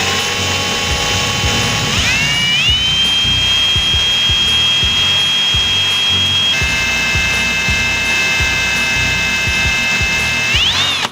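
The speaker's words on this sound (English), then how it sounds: "I'm just gonna go ahead and grab this drill attachment and sand it down as a simple circle" A power drill fitted with a sanding attachment grinds a deer antler ring. Its loud, steady whine rises in pitch early on, then shifts twice as the speed changes, with a gritty scraping underneath.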